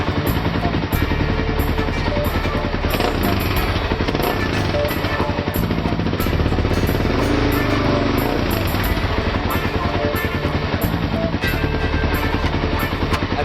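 A dirt motorcycle with a freshly repaired choke that had been engaging by itself and its hand guards removed, its engine running loud and steady up close with a rapid continuous rattle throughout.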